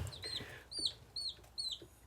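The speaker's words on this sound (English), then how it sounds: "I got baby chickens." Baby chicks peep in a backyard pen, several short high-pitched chirps in quick groups of two or three, quiet and fairly close, with no talk.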